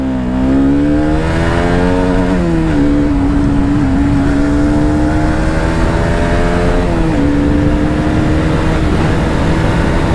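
A KTM motorcycle engine runs loud and close in a steady, throaty hum, with its pitch rising noticeably twice as it is revved.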